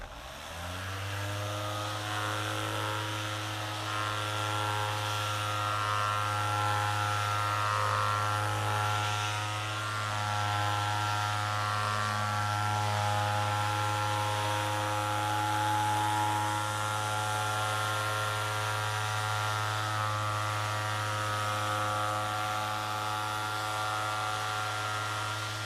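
A Metabo 18V brushless 6-inch random orbital sander runs at a steady speed setting while working across very hard wood, giving a loud, constant motor hum with a buzzing whine that holds level throughout.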